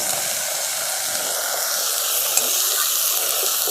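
Ground spices stirred into a sizzling pan of fried green chilies with a splash of water, for a jackfruit-seed and mourola fish dish; a steady, close, bright frying hiss runs throughout with faint stirring, no voices.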